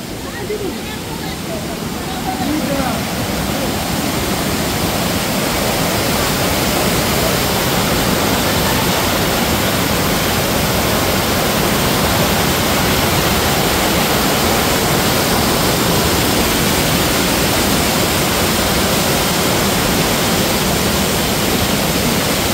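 Loud, steady rush of water at the Panchalingeswar shrine in Odisha pours on without pause for the whole stretch, a broad close roar that swells up over the first couple of seconds and then holds level.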